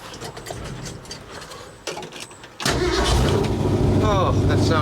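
A car engine cranks and catches after its ground cable is reconnected, then settles into a loud, steady run. Quieter movement sounds come before it.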